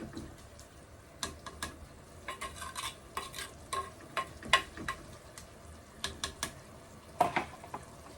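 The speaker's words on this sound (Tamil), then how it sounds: "வெங்காய தக்காளி வதங்கிட்டு இருக்கு." Onions and tomatoes sautéing in a pan for a fish curry, with a steady soft sizzle under repeated scraping strokes of a spoon, fairly quiet and close, with no talking.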